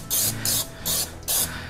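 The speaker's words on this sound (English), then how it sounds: "If you're using the cooking spray," Cooking spray hissing onto a 9x5 loaf pan in four short, close bursts with brief pauses between them, no talking.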